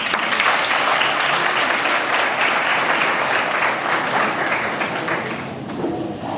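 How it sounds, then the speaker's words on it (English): A university audience at UniVen in Limpopo applauds the ambassador after his speech: loud, sustained clapping from a large crowd that tapers slightly near the end. "Let's give the ambassador another round of applause"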